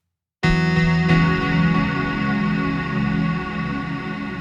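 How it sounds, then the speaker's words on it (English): A hand slaps across all the open guitar strings, a loud, sharp strike that rings out, then a second hit, leaving a thick, sustained metallic chord that slowly decays with effects. "I'm actually slapping the entire open fretboard with my hand to try to get an aggressive sound"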